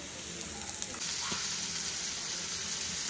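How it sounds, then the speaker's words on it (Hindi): Onions fry in a hot pan for a homemade aloo tikki burger, a dense bright sizzle that swells louder after the first second and then holds steady and close. "हम लोग का प्याज जब थोड़ा सा गोल्डन ब्राउन हो जाएगा तो हम लोग इसमें डालेंगे मिर्च"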